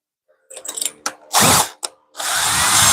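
Drilling into metal with a carbide bit on a transmission stand build: a few short, sharp grinding bursts with gaps between, then a longer sustained whir of the power drill, close and loud.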